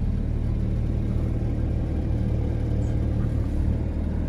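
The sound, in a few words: sports car engine revving with exhaust open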